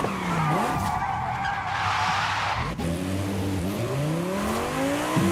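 Tires screech and skid as a car slides and spins in the driving game Forza Horizon 5, a loud continuous squeal over a revving engine that shifts pitch through the slide, with no voices.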